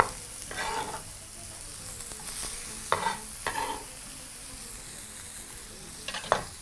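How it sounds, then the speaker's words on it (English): Chunks of tripe tossed in a hot pan over high heat give a steady sizzle with several scraping, tossing bursts at intervals, close and moderately loud, with no talking. "allow your pan to continue heating up while continuously tossing your mixture in there"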